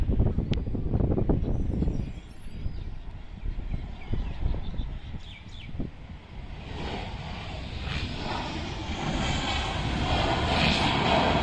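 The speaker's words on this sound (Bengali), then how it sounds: "ঢাকায় অবতরণের জন্য এগিয়ে আসছে হিমালয়া এয়ারলাইন্সের এয়ারবাস A320 মডেলের বিমান" A Himalaya Airlines Airbus A320 airliner approaches to land at Dhaka, its engine roar a broad, steady rumble close by, with some wind buffeting the microphone.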